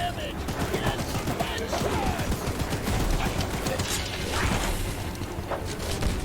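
Mounted gun firing at Charles, the monstrous spider-train in the game Choo-Choo Charles, a dense continuous burst of rapid shots with metallic clatter, loud and close throughout.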